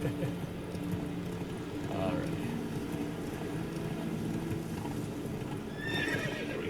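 The horse Roach galloping in a video game, rhythmic hoofbeats running steadily under a quiet game soundscape, with a brief spoken word from a player.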